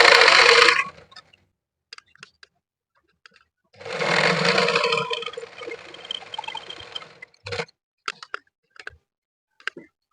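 A sewing machine stitches a blouse close by in two bursts: a short whirring run at the start, then a longer one after a pause. Scattered light ticks and clicks fill the quiet between runs.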